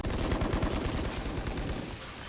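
Rapid bursts of gunfire from a Valorant esports match, dense overlapping shots in quick succession, loud and continuous with no talk over them.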